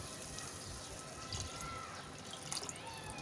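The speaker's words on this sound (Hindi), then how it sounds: "ये पानी हमने डाल दिया है।" Water is poured into a pot of kofta curry over spice masala fried in oil, giving a quiet, continuous trickle with a few soft splashy drips and no speech.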